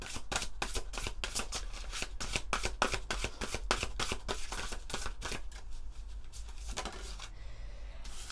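Oracle cards being shuffled in a rapid, steady run of close riffling flicks that carries on for several seconds, then stops short near the end.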